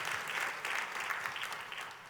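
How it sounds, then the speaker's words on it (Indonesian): A church congregation applauds, a steady wash of many hands clapping at moderate volume, sustained evenly from start to finish. "Kita kasih tepuk tangan yang paling meriah buat Tuhan"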